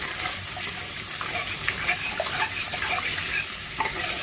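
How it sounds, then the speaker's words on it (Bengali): Water being poured into a simmering curry in a home kitchen pan, a steady broadband hiss and splash with faint sizzling, continuous and fairly close, with no talking. "ভালো করে কষে গেছে, এবার একটু জল দিয়ে দেবো, যতটা ঝোল লাগবে"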